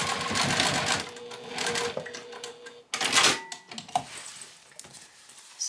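Sewing machine stitching through a bulky fleece seam allowance, a close steady mechanical whirring and rattling that slows and restarts after a brief break midway.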